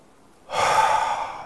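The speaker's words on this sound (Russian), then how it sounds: "Это дыхание, когда делается три вдоха задержки дыхания и медленный выдох" A single deep breath taken during a breathing exercise begins abruptly after a short silence and continues as a steady, airy rush close to the microphone.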